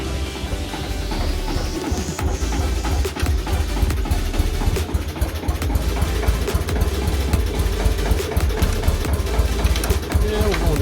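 John Deere Model M tractor engine running steadily, a loud, close, chugging rumble that stays even throughout, with some voice-like sound mixed in.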